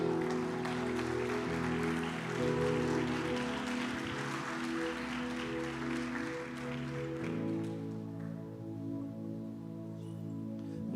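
Church congregation applauds, a dense wash of clapping over steady sustained music that fades out after several seconds, leaving the music alone.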